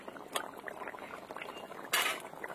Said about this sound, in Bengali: মাছ দিয়ে কিন্তু বেশি জাল দেওয়া যাবে না, একদম 1 মিনিট মতন একটু ফুটিয়ে নিলেই হয়ে যাবে।